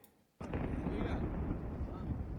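Anti-aircraft guns fire during an attack on an oil refinery, heard through a played recording: after brief quiet, a sudden loud, sustained rumbling roar of distant gunfire and blasts fills the rest of the clip.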